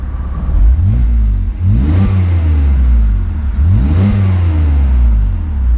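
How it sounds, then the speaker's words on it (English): A manual Volkswagen car engine revs up hard twice, each rise sweeping up in pitch and falling back, loud and close, with no talking. "Get some revs going."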